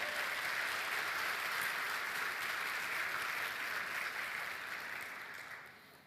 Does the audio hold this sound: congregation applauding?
yes